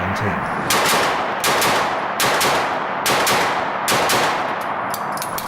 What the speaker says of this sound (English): Here's the real Glock